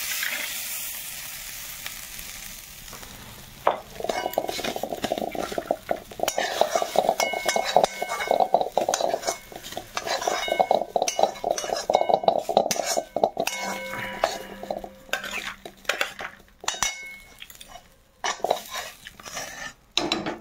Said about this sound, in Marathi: मी गॅस बंद करतो आणि सगळं कढईतलं ह्या ताटात ओतून काढतो.